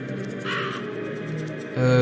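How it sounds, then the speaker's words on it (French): Crows cawing in the video game Soul Reaver, a few short caws close by over a low ambient game background, ending in a louder burst of game sound. "J'entends encore des oiseaux, des espèces de corbeaux, des corneilles."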